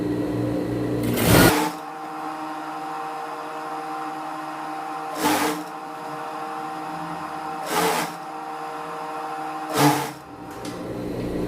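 A sewing machine runs steadily while hemming around the edge of a child's dress, its close, even motor whir continuing throughout and broken by a few brief louder clunks.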